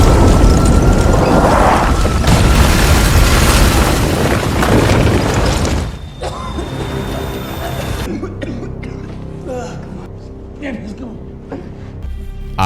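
A deep, roaring blast rumbles through a Viet Cong tunnel in a Vietnam war film scene, loud for several seconds before dropping away to quieter rustling, coughing and voices.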